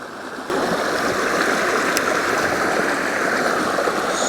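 A waterfall rushes over rocks with a loud, steady roar of churning water that swells in after a brief quieter start and continues close and unbroken.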